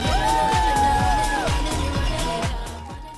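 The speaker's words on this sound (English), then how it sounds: "The further I go, the more I see people ringing bells, clapping, shouting encouragement." Marathon spectators line the course cheering and shouting encouragement, with a steady crowd roar and repeated bright ringing tones like handbells sounding over it throughout.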